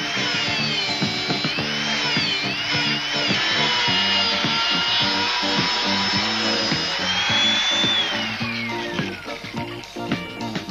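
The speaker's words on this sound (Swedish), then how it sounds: "Färg och gammalt spackel slipas bort för att blottlägga skadan och möjliggöra svetsningen." Power sander grinding old paint and earlier filler off a rusted dashboard panel on a car before welding, a steady loud whine with a shifting pitch held for most of the stretch before tapering toward the end.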